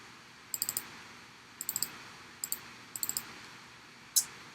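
Computer mouse clicks on a Browse button in Tableau Prep, faint close-up clicks in small quick clusters of two to four, then one sharper single click, over quiet room hiss with no talk.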